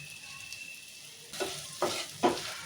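Wheat rava upma mixture stirred in a pan after salt is added to tempered spices in oil: faint frying hiss with three soft scraping strokes of a spoon, growing slightly louder toward the end.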